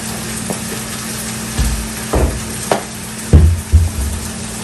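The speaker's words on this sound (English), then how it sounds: "You can hear stuff frying" Garlic and other food frying in a little oil in a pan, a faint steady sizzle under several dull knocks and scrapes of kitchen utensils, with no talk.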